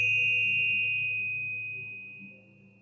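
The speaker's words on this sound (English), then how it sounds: "I also found these Tibetan bells" Tibetan bells ring with a bright, sustained metallic tone that slowly fades, accompanied by a low hum and faint shimmering overtones, heard alone.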